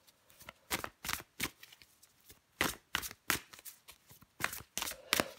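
Tarot cards being shuffled by hand, a series of about a dozen crisp, close riffling bursts in a quick, uneven rhythm separated by brief pauses.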